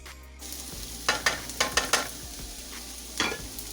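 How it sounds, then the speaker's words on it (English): Mushrooms cooking down in a pan for stuffed bell peppers, a soft steady sizzle broken by a series of sharp stirring scrapes and clicks, close and moderately loud with no talk. "you're just gonna cook this down as well. Let the mushrooms soften up and brown"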